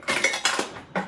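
A scissor drawer is pulled open and the metal utensils inside clink and rattle in a few quick bursts, close and bright.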